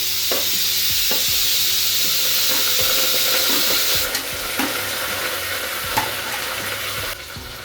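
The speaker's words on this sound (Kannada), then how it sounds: "ಈಗ ಇದಕ್ಕೆ ಈರುಳ್ಳಿ ಹಾಕ್ತೀನಿ. ಈರುಳ್ಳಿ ಮತ್ತು ಪುದೀನ ಸೊಪ್ಪು ಒಟ್ಟಿಗೆ ಹಾಕ್ತೀನಿ." Onion and mint leaves frying with garlic in a pan for mutton chops, giving a steady, close sizzle with stirring scrapes and occasional clinks throughout, no voices.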